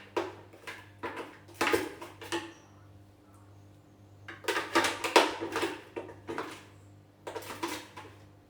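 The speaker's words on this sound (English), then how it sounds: "we're just scooping our ice cream, making sure to get it all out of the blender." A utensil scrapes and knocks against a blender jar while frozen banana nice cream is scooped out, irregular bursts of scraping and clinks separated by quiet gaps over a low background hum.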